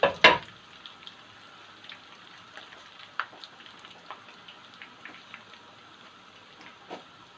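Dough roses and bows fry in a pan of hot oil, giving a faint, continuous crackle with scattered small pops and a sharper knock at the very beginning.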